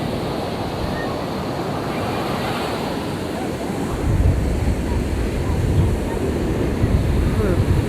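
Sea waves roll in steadily where a river meets the sea at Colachal beach, a loud continuous wash of surf with wind buffeting the microphone, growing heavier midway.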